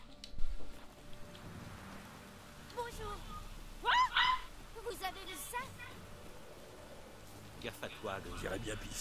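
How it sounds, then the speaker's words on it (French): A dog in The Witcher 3 video game letting out a few short barks and whimpers amid quiet ambient game sound, with a person talking intermittently. "C'est un chien trempé de pluie."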